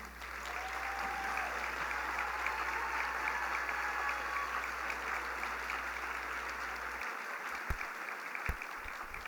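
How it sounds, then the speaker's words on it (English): Steady applause from families, staff and administration at a charter school graduation for the Class of 2022, a dense even wash of clapping that holds throughout, with a low hum that cuts out near the end. "please give a round of applause for our strong trees"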